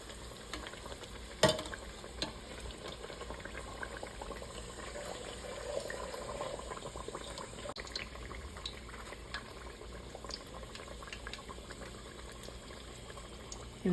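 A chalupa shell frying in a hot pan gives a steady, soft sizzle and crackle of oil that runs throughout, with a sharper tap or clatter now and then as it is handled, and no talking.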